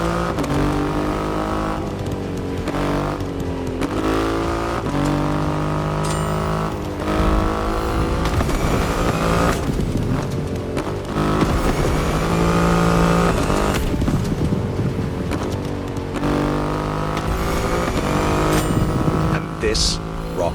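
Triumph Rocket 3 motorcycle with a 2.5-litre engine in The Crew Motorfest: loud, close revving that climbs through repeated gear changes, with rising and falling engine tones over about twenty seconds.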